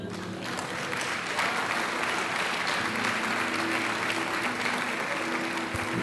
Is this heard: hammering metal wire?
no